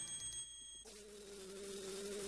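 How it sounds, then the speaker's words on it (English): Bee buzzing inside Zelda: Majora's Mask, a steady insect drone that starts abruptly partway through and holds on, faint and without talk. "It's a bee!"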